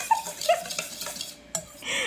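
Dry ingredients and herbs for a yogurt-marinated fried chicken breading are stirred together in a bowl, with a few close, short scraping and clinking strokes of the utensil against the dish.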